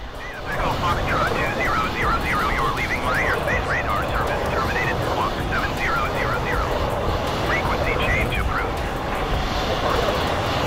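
A plane's engine drones steadily in Microsoft Flight Simulator, a continuous whooshing hum through the whole stretch, with someone talking over it the entire time.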